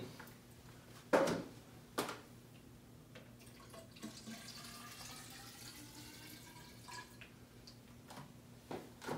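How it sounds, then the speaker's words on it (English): Water trickles and splashes softly as it is poured back into a tube, with a few small knocks and clinks, fairly faint and close. "I'm going to close off the tube and put the water back in."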